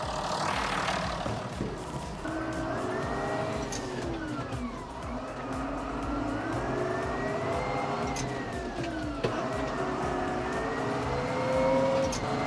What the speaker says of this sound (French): je prends le tracteur et on est parti.